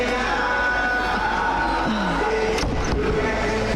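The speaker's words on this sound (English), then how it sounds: "Crowd are loving it" Crowd at a youth under-17 football match between Ireland and the Isle of Man, a loud steady roar of spectators filling the whole stretch, with a couple of sharp bangs near the end.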